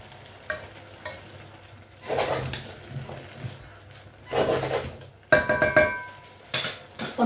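Chicken and aubergine with vegetables, seasoned with black pepper and fish sauce, are stirred in a pan, giving scraping and clattering bursts over a soft sizzle, louder toward the end.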